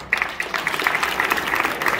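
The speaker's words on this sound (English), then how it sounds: "Give an applause for this gentleman" Audience applause at a hypnosis comedy show, a lively burst of clapping with sharp individual claps standing out close by and a few scattered vocal sounds mixed in.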